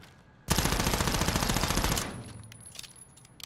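Sustained burst of rapid automatic gunfire from a weapon in Call of Duty, loud and close for about a second and a half, then fading into scattered faint shots and ambient game noise.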